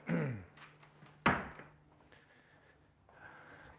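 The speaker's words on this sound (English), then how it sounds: "Should we shut this door?" A door is pushed shut in a room, giving one sharp thunk in the middle, with a softer knock just before and a quiet room hum around it, and no talking.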